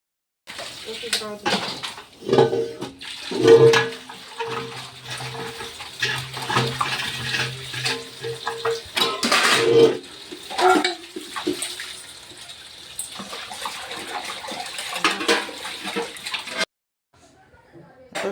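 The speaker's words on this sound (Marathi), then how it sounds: "मी पण चालले धुवून घ्यायला भांडे" Dishes and pots are washed under running water in a home kitchen, with a continuous close stream, clanks of metal vessels and scrubbing, and a voice heard now and then.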